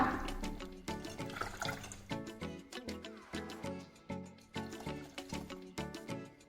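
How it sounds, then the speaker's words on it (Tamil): Boiled milk poured into a pan of paruthi paal, a continuous liquid pouring and gurgling with rhythmic splashy pulses, close and without talk. "பால் ஊத்திக்கலாம். காய்ச்சின பால் தான்."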